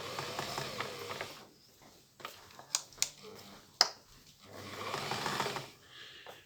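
A Victoria Lady 6800 F sewing machine runs in two steady whirring stretches of about two seconds each, with clicks and taps of handling between them, and a voice briefly heard.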